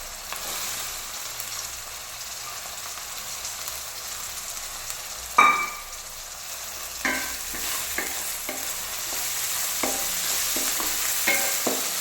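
Lightly boiled peas frying in a pan with a steady, hissing sizzle, broken by a sharp clink partway through and a few soft knocks as they are stirred, with no voices.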